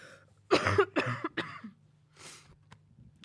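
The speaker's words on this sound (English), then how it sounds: "I am trying not to cough" A woman at a college basketball postgame press conference coughs several times in a quick cluster of harsh, close bursts, followed by a softer breathy throat sound.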